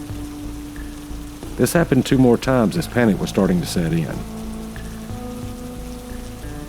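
Steady drizzling rain patters over a swamp in the dark, a soft continuous hiss that carries on beneath a voice talking through most of the clip.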